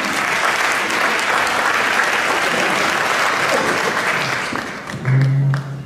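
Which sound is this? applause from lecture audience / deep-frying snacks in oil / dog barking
applause from lecture audience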